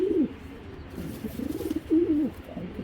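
White racer pigeons coo in a few soft, repeated rolling calls, close by and alone without talk.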